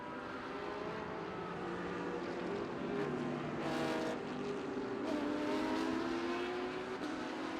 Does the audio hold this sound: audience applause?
no